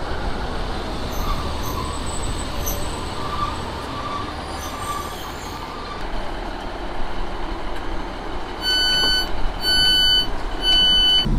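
A train pulls into Chinley railway station, a steady rumble of rolling wheels and rail noise with brief high squeals, growing louder near the end as it comes close.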